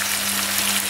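Onions fry in a kazan pot for kuyrdak, a brief, loud, dense sizzle with no other sounds.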